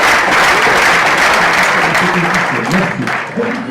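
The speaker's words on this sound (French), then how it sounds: "je vous remercie d'applaudir encore une fois les relèves à la catégorie novice" Applause at a novice-category awards ceremony, a large crowd clapping loudly and continuously, with a voice briefly audible beneath it toward the end.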